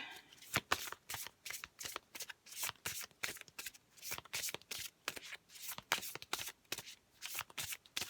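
Tarot cards being shuffled by hand, close and crisp, in repeated quick riffling bursts with short pauses between them, quiet overall and with no talk over it.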